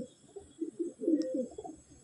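Old-bloodline Madrasi (Andhra) pigeons coo in a loft, a soft, low, rolling burble that swells and fades over a couple of seconds, close by and alone.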